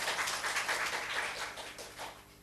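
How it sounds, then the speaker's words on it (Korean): Church congregation applauding, a dense wash of many hands clapping at once, soft and fairly distant, fading slightly toward the end. "우리 하나님께 박수 올려드려요."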